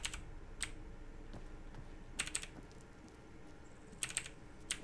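Sparse, sharp clicks and taps on a computer keyboard during a session of ArmA 3, heard close over a low steady room hum, with short clusters of keystrokes separated by pauses.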